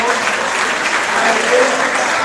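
A church congregation applauds in a dense, steady wash of clapping that fills the room loud and close, with voices mixed into the crowd.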